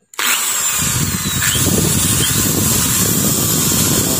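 An electric drill whirs loudly and steadily from start to finish, a constant buzzing motor drone with no pauses.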